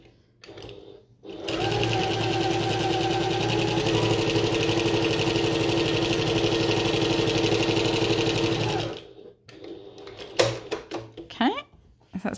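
A sewing machine runs a long continuous top-stitch at an eighth-inch seam allowance on a bucket tote, a loud close whir lasting several seconds that starts and stops cleanly, followed by brief handling noise.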